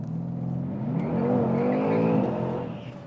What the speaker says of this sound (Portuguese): vou arrancar uma vez só para a gente poder fazer a limpeza dos pneus